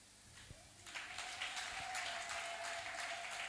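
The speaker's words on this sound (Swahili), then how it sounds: "Hayo makofi ni ya kumpa Yesu kweli." A church congregation claps together, with steady broad applause swelling in after a moment and holding on, heard at a distance in a large room.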